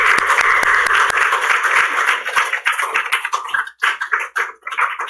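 A church congregation stands and applauds during a Sunday worship service in New Jersey, loud dense clapping that fills the room and then thins into scattered claps toward the end.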